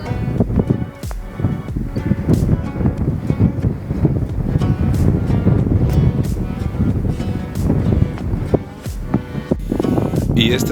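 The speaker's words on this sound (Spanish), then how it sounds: "Sigue fluyendo el agua acá." A rain-swollen river near Wadi Bani Khalid rushes in a loud, churning flow, mixed with heavy wind buffeting the microphone and occasional sharp knocks.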